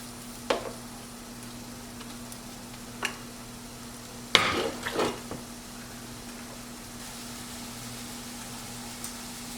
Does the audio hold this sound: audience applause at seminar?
no